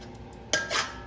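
A metal spoon scrapes and clinks inside a pot of melting sugar for Trini-style stew chicken, with a couple of short nearby knocks followed by a scraping stir, quiet and close with no talking.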